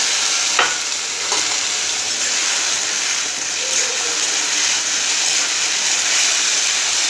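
A paste of ginger, garlic and green chili fries in a hot pan, a dense steady sizzle with a few clicks of stirring, loud and close with no talking.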